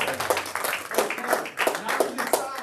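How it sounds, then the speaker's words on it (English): Audience at a property roadshow seminar in Cape Town applauding, a steady patter of many hands clapping at moderate loudness throughout, with dense overlapping claps and no clear pauses. "One more round of applause."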